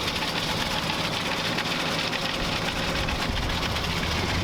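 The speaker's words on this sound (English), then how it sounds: "You heard the motor tapping." An LS V8 swapped into an ice cream truck runs with a fast, steady ticking tap over the engine's low hum, close and continuous for the whole stretch.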